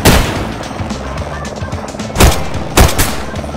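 Gunfire aimed at a helicopter in the video game DayZ, loud close bursts of shots with two heavy blasts near the end over a rumbling background, no voices.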